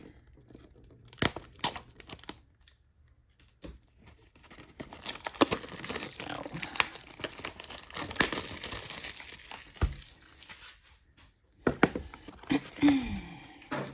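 Scissors snip and tear through plastic Pokémon product packaging, including a Temporal Forces Build and Battle Kit, with close, intermittent bursts of crinkling and ripping between quieter pauses and a brief spoken word.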